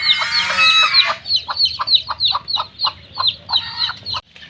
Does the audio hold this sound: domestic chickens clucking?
yes